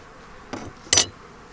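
Agitated honeybees on a cold day give two short, sharp buzzing bursts close by, the second louder, over a quiet background.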